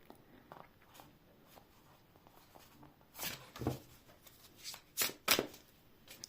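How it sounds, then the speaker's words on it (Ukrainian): A deck of cards is shuffled up close: soft rustles, then a few sharp riffling bursts near the end, with no speech. "Тусую карти"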